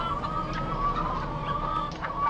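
Chickens cluck on a farm in Farming Simulator 2015, a steady layer of clucking and bird chatter with a constant tonal hum beneath, moderately loud and continuous.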